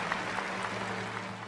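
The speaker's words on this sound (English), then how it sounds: "A video recently surfaced showing an audience applaud" An audience claps through the whole moment in dense, continuous applause, heard at a slight distance without cheering or speech.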